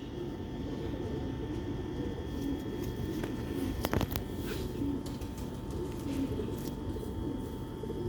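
Pigeons kept for sale coo softly in a pen amid a constant hum of outdoor background noise, with a brief clatter midway and no speech.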